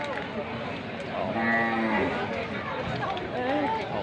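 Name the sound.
carabao water buffalo at a livestock market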